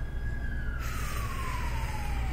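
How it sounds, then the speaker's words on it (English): An emergency vehicle siren wails steadily from a distance at a live indoor gathering, its pitch sliding slowly downward as it passes, with constant background noise throughout and no speech. "So we're sending love to the siren, as we always do."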